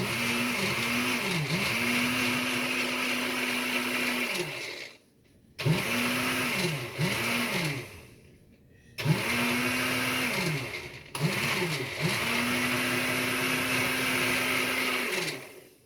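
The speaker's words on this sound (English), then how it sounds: "we've been blending this up for about 2 minutes now" Hand blender whipping butter and milk into heavy cream, a loud, steady motor whine that dips and recovers in pitch as it works, running in four long bursts separated by short pauses.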